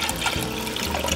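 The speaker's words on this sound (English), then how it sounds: "Now I'm going to add 1 cup of water" A steady rush of water pours continuously into a cooking pot, a full splashing flow with no pauses and no voices.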